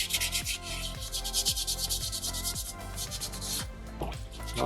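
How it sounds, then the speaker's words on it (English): Wet sandpaper rubs back and forth over a small soapstone shark carving in steady, rhythmic strokes, close up and continuous with no talking. "So sandpaper 2, let's get rid of those little scratches that we don't want."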